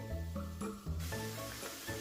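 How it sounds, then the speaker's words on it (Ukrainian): Soft sizzling and crackling of meatless patties frying in hot oil in a pan, with a hissing texture that swells partway through; quiet and close, no talking. "на олії, на розігрітій сковороді смажимо котлетки до рум'яної скоринки"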